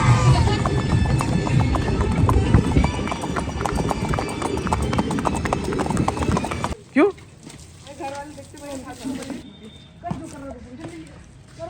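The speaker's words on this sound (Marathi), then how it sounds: "तर शिवजयंतीच्या तयारीसाठी घोडे धुवण्याचं काम सुरू आहे" Horses being washed for Shiv Jayanti preparations, hooves clip-clopping loudly and densely for several seconds before the scene quietens, with people talking and a brief whinny-like call over softer hoof sounds.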